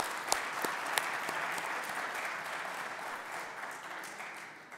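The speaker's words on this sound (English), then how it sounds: "another round of applause as well" An audience at a National Signing Day ceremony gives another round of applause, opening with a few sharp, distinct claps before settling into a steady, moderately quiet patter that slowly thins out.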